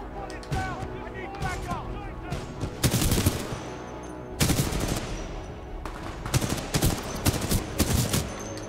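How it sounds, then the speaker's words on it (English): Rapid supporting gunfire from the Titanfall 2 video game comes in loud, dense bursts of automatic shots separated by short pauses, mixed with game sounds and voice. "Visual contact reestablished with pilot. Commencing supporting fire."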